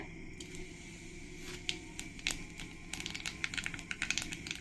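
Black cumin seeds spluttering in hot oil, quiet irregular pops and crackles that grow denser toward the end over a faint background hiss.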